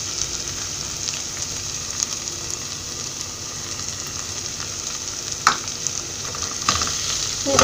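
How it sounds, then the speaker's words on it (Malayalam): A spoon stirs tomato masala with turmeric in a hot pan on a low flame, the mixture sizzling and scraping softly in a steady rhythm, with a couple of sharper knocks against the pan. "ഇത് നന്നായിട്ടൊന്ന് ഇളക്കി കൊടുക്കാം."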